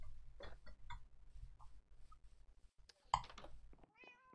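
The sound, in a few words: cat being hit, meowing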